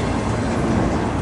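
Long freight train rumbling steadily past in a snowstorm, a continuous loud, dense roar of rolling wagons heard close by with no pauses.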